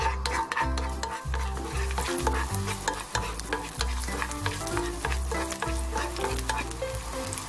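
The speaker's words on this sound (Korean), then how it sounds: "기름이 따뜻하게 되면 마늘과 통후추를 넣어주고요. 불을 낮춰서 약불에 볶아주세요." Garlic and whole peppercorns sizzle in warmed olive oil over low heat, a close, constant crackle broken by regular scraping and tapping strokes of a utensil stirring the pan; no talking.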